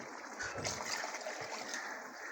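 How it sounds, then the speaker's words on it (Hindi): Water is poured from a glass into a pot of mash lentils for dhaba-style dal, a soft continuous trickling and splashing that is faint and close. "अब इसके अंदर हम डालेंगे 1 गिलास पानी"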